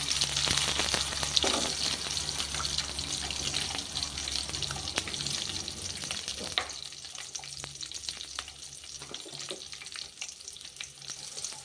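Shallots and slit green chilli frying in hot oil for a thattai payaru (cowpea) kuzhambu, a steady close sizzle with occasional stirring scrapes and faint watery clinks, no talking.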